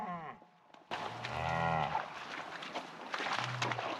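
A calf stuck in deep water lets out a loud, drawn-out moo, then a shorter one, with rustling and faint movement in between.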